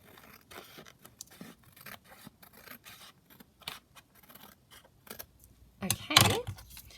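Scissors cut around a paper collage sheet, giving scattered close snips and rustling scrapes, ending with a louder crunching cut near the end.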